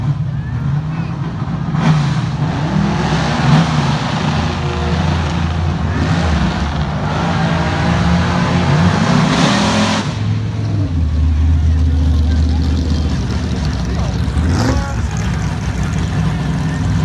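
A drag-race sleeper Chevrolet Caprice engine runs steadily with a deep, low rumble and some swells in revs, while people talk over it throughout.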